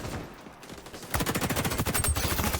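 Suppressed submachine gun fire in the shooter XDefiant, opening with a quieter stretch before a loud, rapid automatic burst of evenly spaced muffled shots running steadily to the end.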